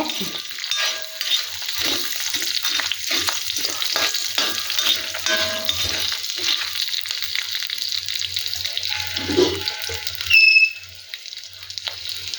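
Dried red chillies sizzle in hot oil in a pan while tomato chutney is being prepared, a steady close crackle with occasional stirring clinks and a brief louder burst near the end, without any talking.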